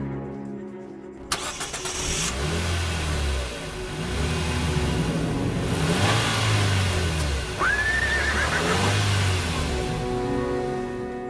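Nissan Juke with 117 brake horsepower starting up after a brief silence, then engine revving and accelerating hard in rising and falling surges, loud and close, with a short high whine partway through.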